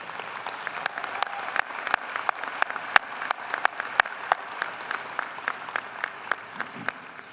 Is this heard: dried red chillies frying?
no